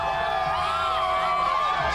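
A loud crowd at a Tampa Bay Buccaneers Super Bowl homecoming celebration in a stadium, with continuous cheering and whooping voices filling the space, sustained and dense without a break.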